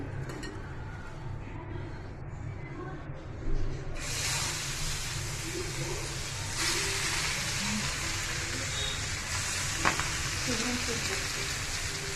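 Fish fries in a generous amount of oil in a pan, a loud continuous sizzle and hiss that swells after a few seconds, with occasional stirring scrapes and faint background voices.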